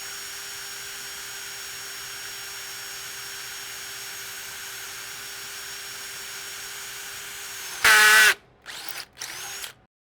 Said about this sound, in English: we're going to drill our first hole. We always start with the back top aft hole first